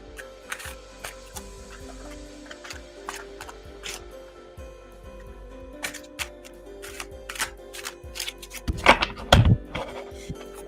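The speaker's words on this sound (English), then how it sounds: "Okay, give it a good shuffle." A tarot deck is shuffled close by: scattered light card clicks and soft thunks, then a louder, denser burst of riffling near the end, with no voices.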